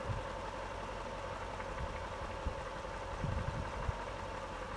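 A 1959 Lincoln Continental Mark IV convertible with a rebuilt carburetor idles steadily and close by, a continuous low engine rumble with a few small knocks and bumps partway through.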